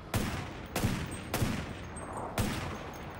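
Four loud, sharp gunshots fire from a rifle in the battle royale video game CRSED F.O.A.D., spaced unevenly about half a second to a second apart, each with a short ringing tail and no talk over them.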